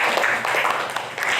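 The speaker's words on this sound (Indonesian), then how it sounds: "Bagus sekali, beri tepuk." Classroom students clapping together on the teacher's cue, a dense, fairly loud burst of applause that carries on steadily throughout.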